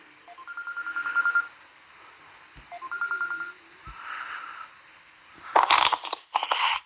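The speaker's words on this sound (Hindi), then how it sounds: "ये कॉल आ गई है और कॉन्फ्रेंस कॉल आई है दोनों की" A mobile phone announces an incoming conference call with short bursts of ringing tones in repeated groups, followed by a few louder clicks and crackles.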